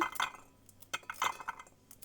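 A fork scrapes ripe black elderberries off the cluster, giving a few quiet, sharp clinking scrapes in an uneven rhythm.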